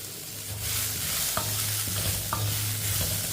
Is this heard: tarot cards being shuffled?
no